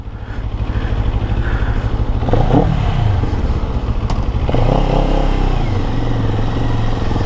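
A CFMOTO CLX700 motorcycle engine in sport mode revs hard and close, with a loud throbbing idle rising into two strong throttle blips and sustained rumbling, no voices over it.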